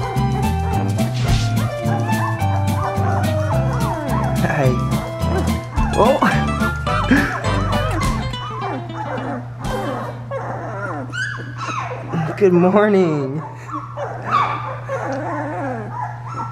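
Two-week-old Labrador puppies whimper and yip in a series of thin, high cries close by, with a steady low hum underneath and a person speaking briefly.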